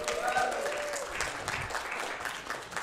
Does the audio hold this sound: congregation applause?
yes